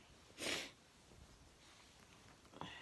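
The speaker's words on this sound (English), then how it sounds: "Sorry for the sniffing." One loud, close sniff early on, then quiet room tone and a fainter second sniff near the end.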